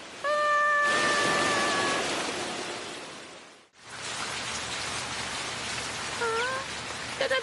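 Steady rain hisses throughout, briefly dipping midway, with a few faint meow-like cries rising over it, in an animated cartoon.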